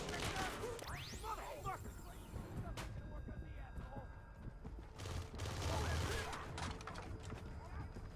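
Gunfire in the stealth video game Splinter Cell, with scattered shots and bursts mixed into busy game sound under voices.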